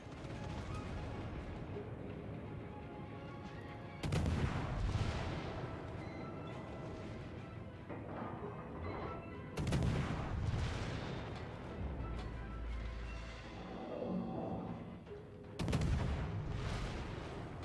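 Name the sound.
warship guns firing in video game World of Warships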